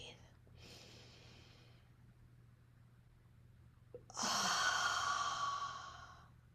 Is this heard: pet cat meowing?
no